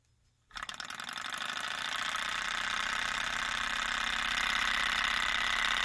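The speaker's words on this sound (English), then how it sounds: "I will show you a little baby-sized Stirling engine" A tiny Stirling engine starts up after a brief quiet moment, then runs in a steady, fast, even mechanical whir that holds at constant loudness.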